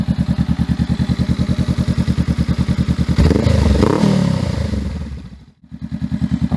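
A 2020 Honda Rebel 500 motorcycle idles loud and close with a steady thumping pulse, then revs up in a brief surge before dropping back and resuming its even idle.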